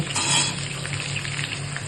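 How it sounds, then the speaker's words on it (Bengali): Cauliflower and beans frying in oil for chicken keema khichuri make a close, steady sizzle with stirring scrapes, loud and continuous with no talking. "এরপর ফুলকপি আর বিনসটা ভেজে নেব।"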